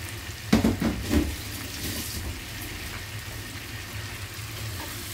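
Marinated small mourola fish drop into a hot pan with a burst of loud crackling, settling into a steady, softer sizzle that continues alone.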